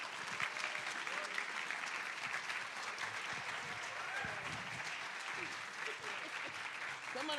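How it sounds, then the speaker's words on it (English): An audience at an author talk claps steadily to welcome speakers to the stage, a dense sustained round of applause with a few voices faintly beneath it. "Please clap for them."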